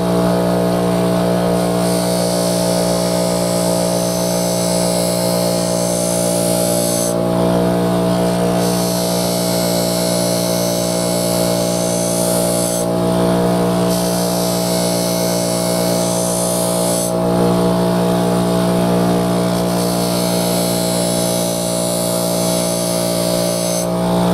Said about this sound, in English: I'm just going to try to match the edge of the blade to the angle on the grinder